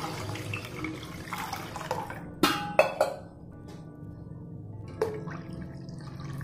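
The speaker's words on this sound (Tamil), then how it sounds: "இப்போ தேவையான அளவு தண்ணி விட்டுக்கலாம்." Water being poured into a rasam mixture made with tamarind water and mudakkathan greens, a steady liquid splash and trickle with a few sharp clinks of a vessel partway through, close and moderately loud with no talking.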